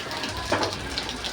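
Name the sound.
rain falling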